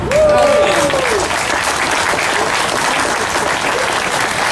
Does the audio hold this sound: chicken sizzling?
no